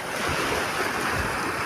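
Large sea waves at Karon Beach, Phuket roll and crash in a continuous loud wash of surf, with gusty wind buffeting the microphone.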